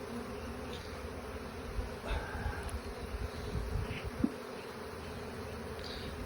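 Honeybees buzzing around an opened hive during a colony check, a dense steady drone filling the background with individual bees passing close, while people talk quietly nearby.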